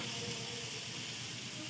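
Eggplant pieces frying in oil in a kadai over medium-low heat for a mustard eggplant dish, giving a continuous soft, hissing sizzle, faint and steady, with no talking.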